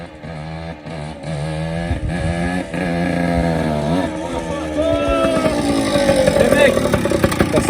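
A 100 RT motorcycle revving hard as it pops a wheelie, engine pitch climbing and wavering as the clutch slips, loud and close, with people talking over it.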